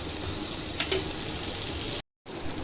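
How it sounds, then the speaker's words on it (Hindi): Cumin seeds fry in a pan of softened tomatoes for chutney, giving a continuous close sizzle with faint stirring, briefly cut to silence near the end before the frying resumes. "अब ज़ीरा भी हमने इसके साथ डाल दिया है, कि थोड़ा सा हमारा ज़ीरा भुन जाए।"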